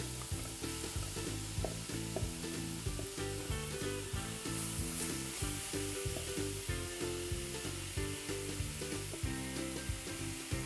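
A vegetarian burger patty fries in a pan over medium-high heat, giving a steady, close sizzle with crackling pops and occasional scraping stirs, and no voices.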